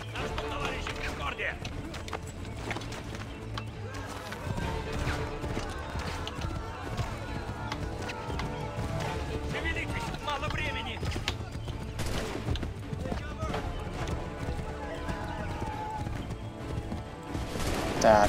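Horse galloping in the Assassin's Creed 3 video game, a steady run of hoofbeats set against busy game music and distant gunfire, with someone talking over most of it.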